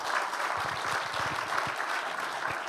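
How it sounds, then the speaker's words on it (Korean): An audience at a Korean church dedication and founding service applauds as a priest comes forward. The clapping is steady and fairly close, with a few sharper claps standing out and no speech over it. "큰 박수로 맞아주시기 바랍니다."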